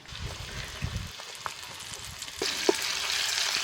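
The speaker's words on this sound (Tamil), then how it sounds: "இடிச்சு வச்ச இஞ்சி பூண்டு விழுதும் பிரியாணி இலையும் சேர்த்துக்கலாம்." Crushed ginger-garlic paste and bay leaves hitting hot sesame oil in a village cooking pot, a soft sizzle that rises and brightens midway, with a few scraping stirs and light clinks.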